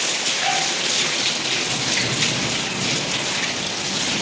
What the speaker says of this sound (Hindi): बिल्कुल धुआंधार बारिश हो रही है।